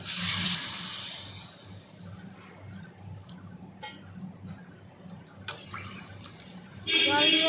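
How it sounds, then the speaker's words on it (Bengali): Water poured into a pot of fish curry with taro, a loud rushing pour at the start that quickly settles into a quieter simmering bubble, with brief clinks and a second splash near the end. "এবার জল পরিমাণ মতন জল দিয়ে দেবো"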